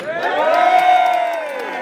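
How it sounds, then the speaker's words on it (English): A crowd cheers for the day's DJ, Gordon, with a sustained chorus of whooping voices swelling loudly and then fading over about two seconds, with no other talk. "Cheer, please, for our DJ today, Gordon."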